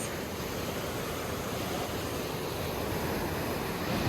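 A large river rushes beneath a bridge, its steady broadband roar of flowing water filling the whole stretch at close range, constant and unbroken with no voices.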